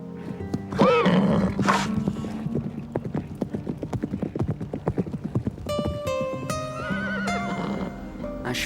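A horse whinnies loudly, followed by a run of rapid hoof clip-clops and further neighing with music-like tones in the background.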